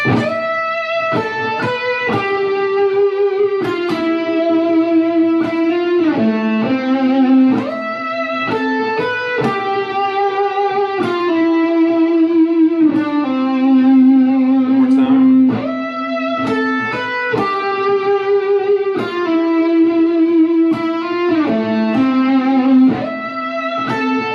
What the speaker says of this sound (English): you definitely hear all those repeats and echoes and everything from all the delay